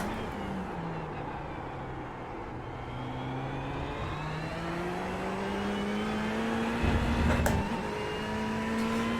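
Ferrari 488 GT3 EVO race car in the iRacing game on the Daytona road course, its engine note climbing through several upshifts as it accelerates, steady and moderately loud with a brief burst of extra noise near the end.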